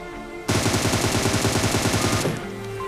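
A loud, close, sustained burst of rapid automatic gunfire in PUBG Mobile lasts about two seconds, with steady game ambience before and after.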